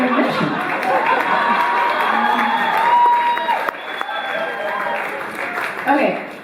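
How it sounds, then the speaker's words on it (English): An audience at a live fire relief fundraiser show applauds, with sustained dense clapping mixed with crowd noise and some cheering throughout. "Thank you for the applause. Smattering of applause."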